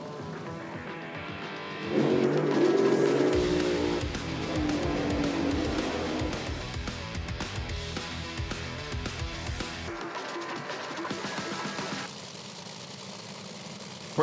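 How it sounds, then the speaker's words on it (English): Top Fuel drag cars roar loudly at a nitro drag racing event, with the engine noise surging, holding for several seconds and then dropping back to a lower rumble. "Pretty good drag race going on out here,"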